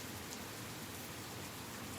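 Steady rain falls in an even, continuous hiss, soft and uniform throughout with no voices or other sounds.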